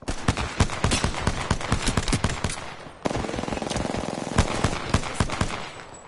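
Rapid automatic gunfire in the video game Apex Legends: dense, loud bursts of sharp shots that crackle almost without pause, with a brief gap midway before the firing resumes.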